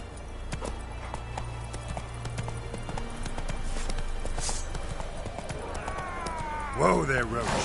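Hoofbeats of Roach, the horse in The Witcher 3, galloping in a steady clip-clop rhythm through a game world, with a voice speaking over it and a whinny-like cry near the end.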